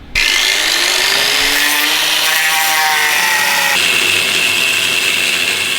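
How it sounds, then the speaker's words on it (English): An angle grinder with its guard removed cuts into metal on a BMW E30 M3 track car. It gives a loud, steady, high-pitched whine that shifts slightly in tone as the disc bites, with no talking. "There's no guard on your angle grinder."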